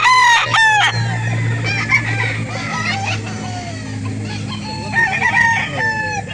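A white Kelso gamefowl rooster crows close and loud, with other chickens clucking and squawking nearby at a fowl market.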